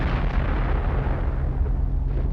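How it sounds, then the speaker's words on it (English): A deep, rumbling explosion from German dive bombers in World War II, loud and sustained with heavy low-end boom throughout. "From the skies above came the German dive bombers and machine gun fire."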